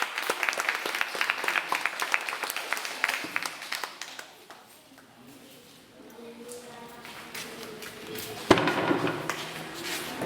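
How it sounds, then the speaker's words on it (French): An audience claps after the opening scene of a theatre play: brisk, scattered clapping for a few seconds that thins out and fades, followed by quieter talking and stage noise. "Applaudissements s'il vous plaît"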